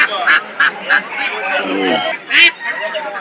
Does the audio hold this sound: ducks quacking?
yes